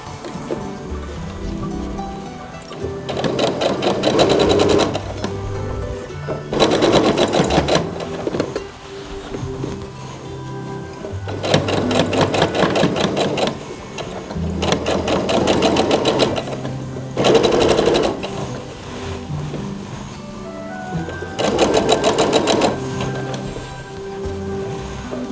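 A sewing machine runs in repeated bursts of rapid, steady stitching along a dress seam, several runs of a few seconds each separated by brief pauses, loud and close.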